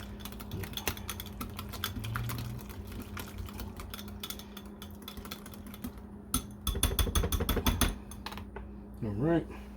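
A whisk beats burger sauce seasoned with smoked paprika, making rapid, close clicking and clattering against the bowl in bursts, with a short stretch of talking near the end.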